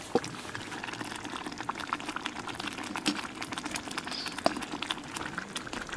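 Cream goes into butter chicken masala simmering over a campfire, giving a continuous bubbling, crackling sizzle with scattered sharp pops throughout.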